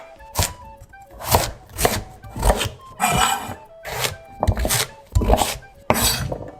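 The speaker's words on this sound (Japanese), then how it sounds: "ミキサーかけやすいように細かめに切ろうと思ったけど、さつまいもって火通さないとめっちゃ硬いんですね" A knife chops firmly through raw sweet potato on a cutting board, steady thuds about once a second, close up with no talking.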